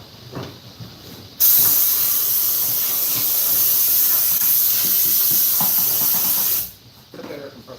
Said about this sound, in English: take my blow gun, blow it around in there